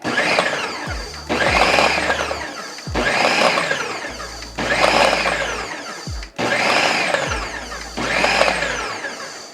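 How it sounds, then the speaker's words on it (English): Food processor pulsing flour for a pie crust, whirring loudly in repeated short bursts of about a second or two each, with a motor hum starting and stopping between pulses. "we're gonna go ahead and pulse it a couple times to get everything well mixed"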